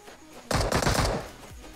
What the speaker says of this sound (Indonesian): Dia sendiri ngasih tembakan.